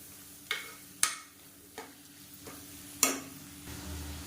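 Tomatoes cooking in a pan for chicken biryani give a faint soft sizzle, broken by several sharp clicks and taps of a utensil stirring against the pan, spaced irregularly and quiet overall.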